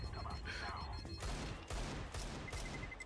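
Desert Eagle pistol shots crack in Counter-Strike 2 gameplay as several sharp bursts over about three seconds, mixed with other game noise.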